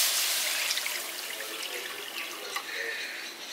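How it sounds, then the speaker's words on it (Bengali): Water poured into a hot wok on a gas stove gives a steady rushing, hissing splash, close and constant for a few seconds, with no speech. "এবার কড়াইয়ের মধ্যে আমি জল দিয়ে দিচ্ছি।"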